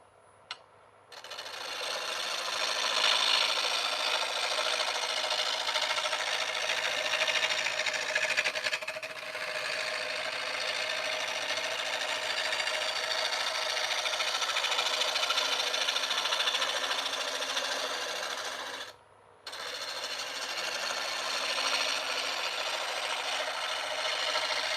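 A lathe spins a turned bottle opener blank at 780 RPM, giving a continuous broad rubbing, whirring hiss with a brief cut near the end, steady and close with no talk.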